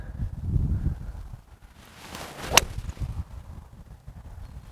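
A single sharp, crisp strike of a SIM2 fairway wood hitting a golf ball, preceded by a quick swish, against a quiet outdoor background.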